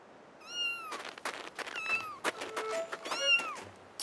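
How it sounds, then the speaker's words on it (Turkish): A small cat meows repeatedly, high and plaintive, several short cries in quick succession close by, among faint clicks and light background noise. "Miyav, miyav diyor."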